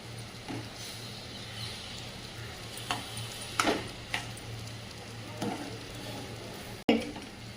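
Moong dal halwa being stirred in a pan after milk has been added, giving soft scraping strokes with a few louder clicks of the spoon against the pan over a low steady background hum, with no voices.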